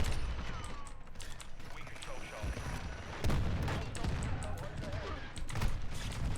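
Lachmann-556 assault rifle fire in a video game comes in rapid bursts and scattered shots over a busy, noisy game mix, with someone talking throughout.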